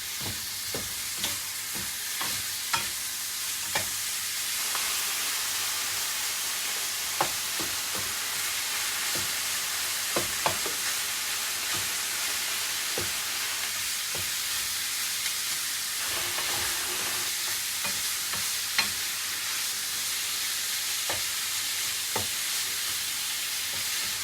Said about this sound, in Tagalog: So, gisahin lang natin ito hanggat mag-golden brown yung ating pork.